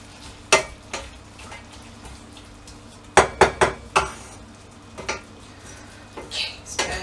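Vegetables for spring rolls, including green sprouts, stirred in a crowded frying pan: sharp clanks of a spoon on metal in scattered bursts over a faint sizzle, close and fairly loud.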